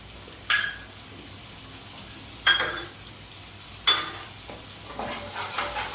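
A spoon scrapes and stirs a spice paste of turmeric, chilli, cumin and garam masala soaked in water, sizzling in a frying pan for Bengali doi rui; three distinct scraping strokes over a quiet hiss.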